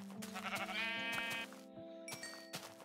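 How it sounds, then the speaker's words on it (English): Sheep bleat in Minecraft, a few short wavering baas in close succession among soft background tones, with no voices over them. "Stupid, useless sheep."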